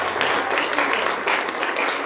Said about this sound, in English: Give him one more clap of praise.